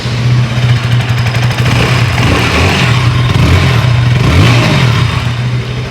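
A KTM Duke 160 motorcycle engine runs loud and close, rising and falling as the throttle is blipped, with a steady rumbling idle underneath.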